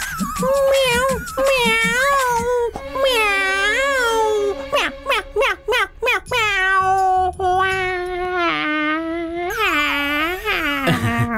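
A voice mimics a cat, producing a string of drawn-out, rising and falling meows, loud and close, with a few short choppy calls in between.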